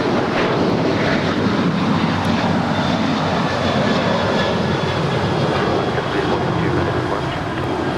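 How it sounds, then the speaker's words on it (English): A 21-year-old Alaska Airlines Boeing 737-900 departing Los Angeles airport, a loud continuous jet engine roar with broad low rumble, steady and near throughout. "That was Alaska 342 departing to Loretto. It's a 21-year-old 737-900."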